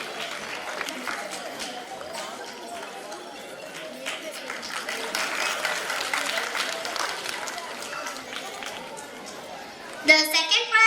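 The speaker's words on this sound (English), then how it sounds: "तालियां तो बनती है." A crowd at a school annual day prize distribution claps for the winners, a diffuse, continuous patter of applause with murmured chatter mixed in, swelling into a louder burst near the end.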